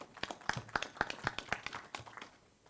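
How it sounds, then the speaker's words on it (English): A short round of applause at a municipal annual general meeting in Ezulwini, heard as sparse, distinct claps from a small group, fairly close and moderately loud, fading out toward the end. "Can I ask that we give ourselves a round of applause for that?"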